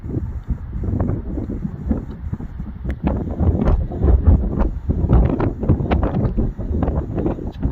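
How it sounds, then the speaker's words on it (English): Strong wind on Taylor Mountain rumbles across the microphone in heavy, uneven gusts, a close, loud, low buffeting that swells and fades in irregular pulses with no talking. "As you can hear, it's quite windy up here."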